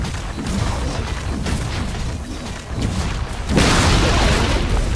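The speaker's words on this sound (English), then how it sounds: "Radiant's top tower has fallen." A tower falls in the Dota 2 video game, a dense rumbling barrage of booms and crashes that swells into a louder, brighter collapse near the end, with battle noise throughout.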